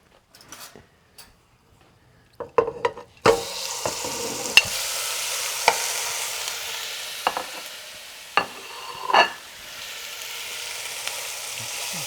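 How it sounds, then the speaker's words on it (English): Lamb neck sautéing in a little oil sets off a sudden steady sizzle partway through, with scattered clinks and scrapes of a utensil against the pan over the hiss. "we start sauteing very lightly the lamb neck, and just a little bit of oil"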